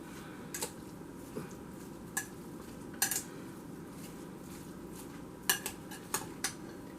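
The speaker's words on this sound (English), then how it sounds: "Just give it a good mix all together until it's really incorporated." Stuffed cabbage meat filling mixed in a bowl, a muffled soft churning under sparse sharp clinks of a utensil against the bowl, close by.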